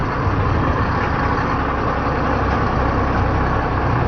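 Dense traffic beside a market during a typhoon, with trucks and motorcycles producing a steady low engine rumble and idling drone, continuous and fairly loud with no speech.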